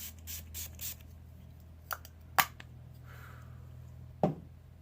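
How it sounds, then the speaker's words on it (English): A few short bursts of cucumber face mist spray near the face, hissing briefly in a quiet room, with a couple of soft ticks between them. "Go ahead and spray my face again with this cucumber spray"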